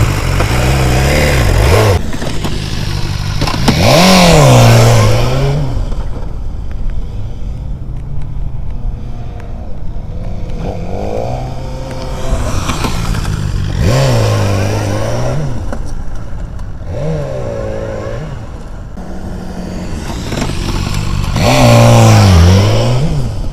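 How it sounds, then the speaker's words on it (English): A motorcycle on a practice lot running emergency braking drills, its engine revving up in repeated bursts of acceleration with quieter lulls between hard stops, loud and close throughout. "I'll start stopping and then accelerating, stopping, accelerating."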